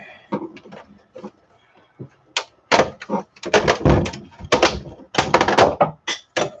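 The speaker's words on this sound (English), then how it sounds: "I hear my granddaughter coming in the door." A door opens and closes as someone comes into a home, with a series of loud, close knocks and thumps in quick bursts, then a brief quiet stretch before more clatter.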